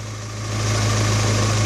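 A 1988 Suzuki Samurai with a 1.6 16-valve engine from a 1998 automatic Tracker idles close by, a steady low hum and vibration that rises slightly in level after the first half second, with no voices.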